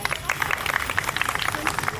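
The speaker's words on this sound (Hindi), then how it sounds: "चलिए इस कार्यक्रम की शुरुआत जोरदार तालियों के साथ करते हैं" Clapping from guests at a retirement function, a crowd of hands beating in quick uneven bursts with a murmur of voices mixed underneath, moderately loud and close.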